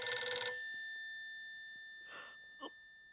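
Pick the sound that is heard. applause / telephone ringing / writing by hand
telephone ringing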